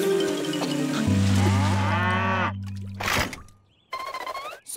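Cows moo loudly in long, low calls, joined by other animal and splashing sounds in a busy, close mix.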